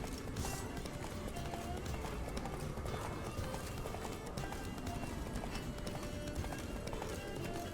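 Roach, Geralt's horse in The Witcher 3, gallops with a steady, rapid clip-clop of hooves amid constant loud game noise, with a voice speaking over it.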